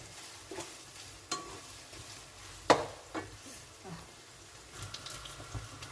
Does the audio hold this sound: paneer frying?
yes